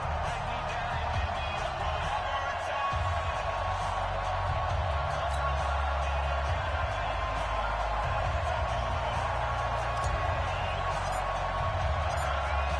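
Steady, dense roar of a sold-out stadium crowd at an American football video game, Patriots facing the Dallas Cowboys in Foxborough, filling the whole stretch as a continuous loud wash with faint talk mixed in.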